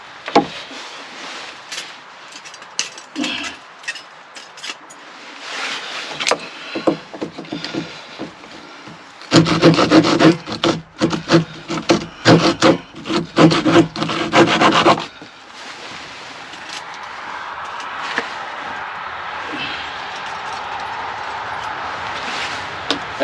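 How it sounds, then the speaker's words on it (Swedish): A handsaw with large teeth rasps through firewood in a fast run of rhythmic strokes, close and loud, with some scraping and handling noises before and after. "Då får vi ju såga av dem lite."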